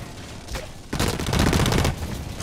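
Rapid automatic fire from a turret in the video game Blacklight Retribution, a dense burst of loud, close gunshots starting abruptly after a faint shot and continuing steadily to the end.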